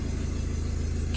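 The automatic gearbox of a Hyundai Matrix 1.6 hums steadily while in gear, a low, even, throbbing drone with a faint pulsing rhythm and no pauses.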